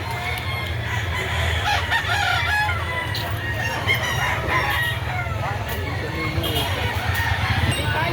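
Roosters crow and cluck at a Saturday poultry market in Lipa City, Batangas, loud and close, with repeated crows over a busy background and a steady low hum.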